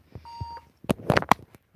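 An old laptop gives a single short electronic beep at power-on as it enters the BIOS, followed by a few louder clicks and handling knocks close by.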